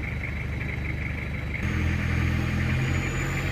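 A first-generation Japanese built-up Mitsubishi Pajero engine runs steadily and then rises in pitch and loudness partway through as the throttle is opened, a close, continuous rev without talk.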